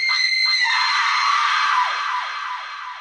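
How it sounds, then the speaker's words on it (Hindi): A woman's prolonged, piercing scream rings out in a graveyard, loud and sustained for about three seconds, with a ringing echo trailing off as it fades. "उसकी भी चीख कब्रिस्तान में गूंज गई"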